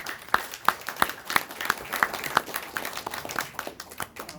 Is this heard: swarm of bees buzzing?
no